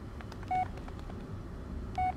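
Two short electronic dialing tones from a phone in the horror game Blair Witch, sounding about a second and a half apart over a faint, quiet background.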